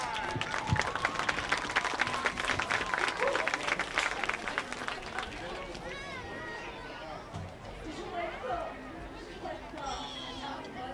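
Applause rises from a crowd at a high school crossover football game, honouring the players' parents: a few seconds of clapping and chatter that fades into general crowd murmur and scattered voices.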